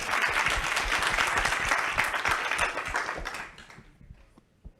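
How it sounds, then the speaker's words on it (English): An audience in a synagogue claps in a dense round of applause that thins and fades out after about three seconds, ending with a few scattered claps. "I'll give it a round of applause."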